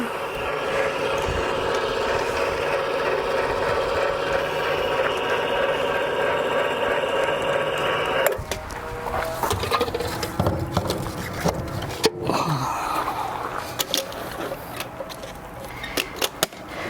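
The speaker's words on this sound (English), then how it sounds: "you hit the little level switch up front, and then you do this" A steady mechanical whir and hum runs for several seconds as the hydraulic leveling jacks of a 1996 Prevost Country Coach RV work, then gives way to clunks, creaks and rattling thumps of machinery shifting nearby.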